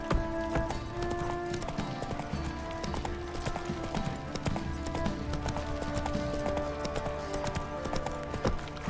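Hoofbeats of the horse Roach in The Witcher 3 clatter in a steady, rapid clip-clop rhythm over constant game music and ambience, close and continuous throughout.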